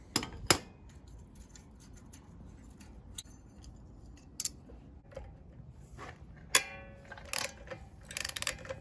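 Mechanics unbolting brake calipers from the Dana 44 axle of a 1978 Dodge Power Wagon in a garage: scattered sharp metallic clicks and ratcheting ticks, a few louder snaps, over a quiet low background.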